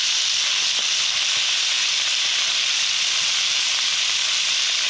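Puti fish frying in hot oil in a large batch, a loud, steady, dense sizzling hiss that runs unbroken from start to finish with no voices.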